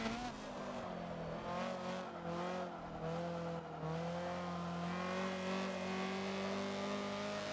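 A Honda CRX race car screams at high revs in the Forza racing game on the Le Mans Bugatti circuit at night, a loud sustained engine note rising and dipping with gear changes, with someone talking over it.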